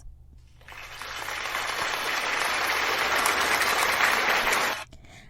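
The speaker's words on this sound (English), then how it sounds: "So let's give a round of applause to all" A room-filling burst of applause swells from a thin start, holds steady and loud for about four seconds, then stops abruptly.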